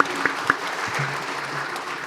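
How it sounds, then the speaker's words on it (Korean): A church congregation at a Sunday worship service claps warmly for the choir, a short burst of dense applause with a few sharper claps standing out at the start. "감사의 박수를 한번 드리겠습니다."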